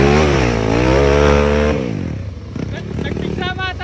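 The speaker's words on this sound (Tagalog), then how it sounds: "Ito yung matindi na motor. Stroke body, 4-stroke engine." A 4-stroke motorcycle engine in a KMX body revs loud and close for about two seconds, then drops to a rough, rattling idle while a voice is faintly heard near the end.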